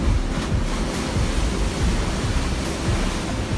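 Ocean waves washing onto the shore make a continuous loud surging roar, up close with some wind buffeting the microphone and no voices.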